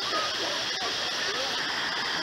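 Kuang Si waterfall near Luang Prabang, a steady broadband rush of falling water, close and continuous, with faint voices mixed in beneath the roar.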